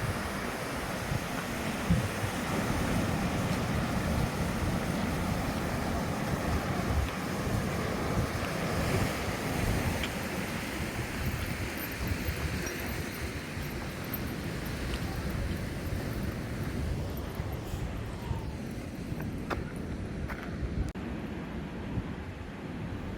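Ocean waves at the beach seen from a trail on the Torrey Pines Nature Reserve cliffs in San Diego: a continuous, distant roar of surf mixed with steady wind rumble, constant throughout with no voices.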